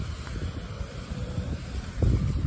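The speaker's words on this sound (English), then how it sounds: "as you can tell, it's still windy, but bearable and manageable" Steady wind after Hurricane Ian buffeting a microphone, a low rumbling roar with gusts swelling louder toward the end, no voices.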